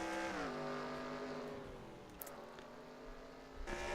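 Formula 1 race cars in a racing video game at Monaco, a Ferrari and a Caterham, roar along with steady high engine whine that shifts pitch through gear changes, loud and continuous with no talk.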